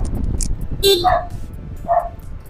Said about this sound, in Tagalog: Yun, may pusa, may aso.